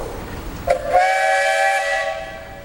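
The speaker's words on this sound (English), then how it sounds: "Matthew, you got a whistle?" Steam traction engine whistle at a threshers' steam show, a single loud close blast with a hissing onset that holds a steady harmonic tone for about a second and a half before fading.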